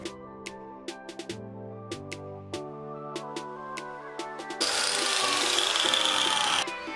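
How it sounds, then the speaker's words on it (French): A sanding disc smooths the edges of a metal shuriken, starting as a rough, steady grinding rasp partway through, preceded by sparse ticks and tonal clinks; close and fairly loud. "Vous devrez prendre donc un autre disque donc pour poncer les bords pour que ça soit bien lisse quoi"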